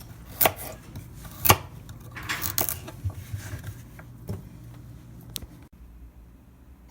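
A kitchen knife cuts through carrots on a cutting board in a series of sharp, close knocks, several louder strikes early on and then lighter, uneven taps before it stops.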